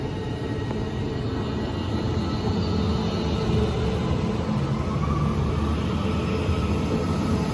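A train approaching a station platform makes a steady, loud rumbling roar of wheels and engine that continues unbroken throughout, with no speech.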